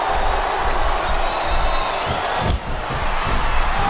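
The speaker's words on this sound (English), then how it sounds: "This capacity crowd is making their opinions known tonight." Capacity crowd at a live wrestling match roaring and cheering steadily throughout, a dense sustained wall of noise with a brief thud in the middle.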